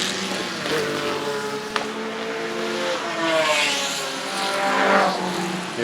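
A vintage sports car of under 2.0 litres on a race track, its engine droning and rising as it passes, with a brief sharp click and a swelling roar near the end, heard from the trackside.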